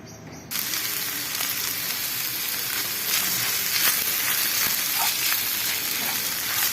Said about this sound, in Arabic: شفتو كنشحرو